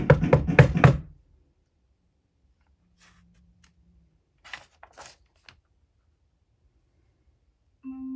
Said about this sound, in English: He stepped up to the front door and knocked.